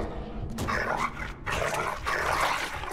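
Dog in the Game of Thrones RPG video game, giving a few close barks and yips in quick bursts over a steady low ambient rumble.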